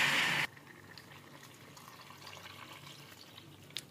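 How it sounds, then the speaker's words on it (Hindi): Water poured from a glass over rice in a cooking pot for pulao: a brief loud splash and pour at the start, then quiet settling and faint trickling in the pot. "तो 2 गिलास पानी भी डाल दिया"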